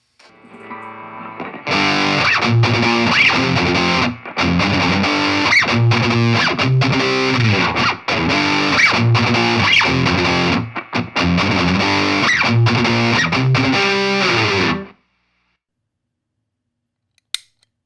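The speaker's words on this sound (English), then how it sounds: "The Plexi Crunch from Nux is a very modern sounding high gain distortion pedal" Heavily distorted electric guitar through a Nux Plexi Crunch high-gain distortion pedal chugs 90s-style metal in tight palm-muted bursts with brief stops, loud and saturated, then cuts off into silence.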